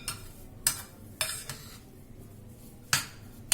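Spice masala being mixed into potato in a bowl, with a few sharp scraping and clinking strikes of a spoon against the dish at irregular intervals over a low background hiss.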